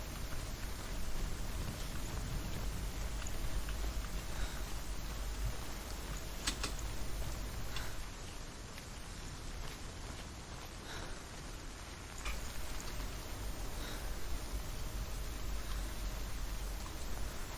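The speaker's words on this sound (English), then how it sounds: "in the game right now it's raining, so it could be that we're hearing some rain" Steady rain hiss in the Hellblade video game, a continuous broadband wash with faint scattered drop ticks, moderately loud and unbroken with no speech.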